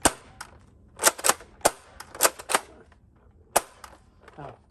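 Nerf Rival Curve Shot Helix blaster fired downward, a string of sharp, close cracking shots at uneven intervals, about seven or eight pops with mechanical clatter between them.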